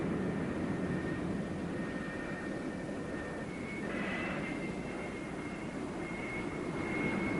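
An F-4B Phantom II jet on the deck of the USS Forrestal, its engines whining in a steady, moderately distant roar as it is eased onto the catapult.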